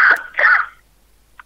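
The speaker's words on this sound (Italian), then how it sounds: "sai perché sto tossendo?" Two harsh coughs in close succession from a woman during a tense exchange, each a loud, breathy burst, followed by near silence and a faint short sound at the end.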